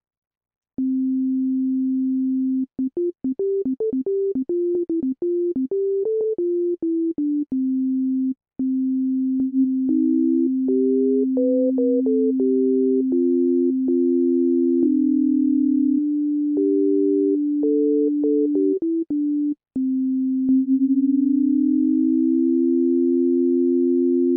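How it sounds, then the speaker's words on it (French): Pure, organ-like tones from a drawbar synthesizer, the Sonic Audio Revival Rack Extension, holding a steady note while upper notes glide with portamento between pitches, solo and clean. "il faut maintenir la note de début pour faire entendre le portamento"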